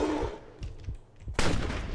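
Pistol shots in the video game Betrayer, a few sharp gunshot bursts within two seconds, loud and close with no voice over them.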